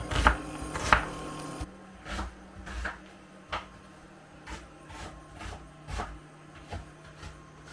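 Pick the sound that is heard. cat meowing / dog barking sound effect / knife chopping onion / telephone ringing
knife chopping onion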